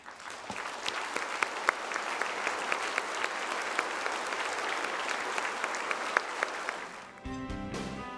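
Sustained applause from an audience, steady clapping that fades out near the end as a voice begins speaking.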